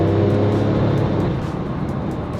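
Porsche 911 997 Turbo engine revving up to about 4000 rpm, a loud, steady rumbling engine note close by with strong low harmonics that loosen slightly after the first second, with no speech.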